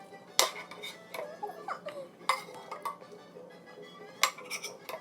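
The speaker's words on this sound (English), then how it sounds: "now that our meat is finally done, it's brown, we are going to put it in a bowl" Browned meat for carne guisada is moved into a bowl with a run of sharp metallic clinks and scrapes of utensils against dishes, close and fairly quiet, with several distinct clanks spread irregularly.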